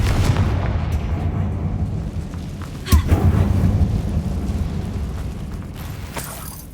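A Confringo fire spell from Hogwarts Legacy bursts in a sharp blast near the middle, over a steady low rumble of game ambience, then fades into lingering background noise.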